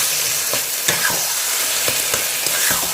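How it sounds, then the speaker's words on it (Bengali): Taro greens cooked with a hilsa fish head sizzle in a hot pan over high heat, with continuous frying hiss broken by repeated scraping stirs. "এবার এটা আমি খুব ভালো করে নাড়াচাড়া করব।"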